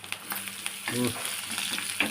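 Loud crackling sizzle of curry leaves and dried red chillies frying in hot oil, with spattering pops and a brief murmur of voice partway through.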